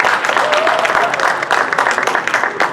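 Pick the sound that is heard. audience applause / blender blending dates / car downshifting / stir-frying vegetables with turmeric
audience applause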